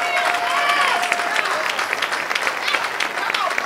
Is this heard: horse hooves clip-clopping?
no